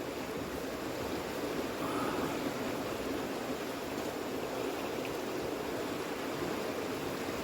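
A river flows steadily nearby, a continuous broadband rush of water that stays even and moderately faint throughout, with no voices.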